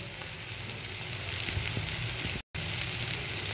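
Spices including chilli powder, coriander powder and garam masala with salt sizzle steadily in a pan for paruppu urundai kulambu, a continuous close crackle broken by a brief dropout.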